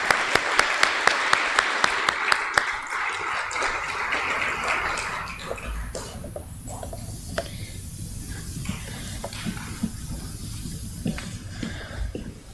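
Enthusiastic applause from an audience at a school board meeting recognizing students, loud at first with sharp claps, then thinning to scattered clapping over a steady background murmur.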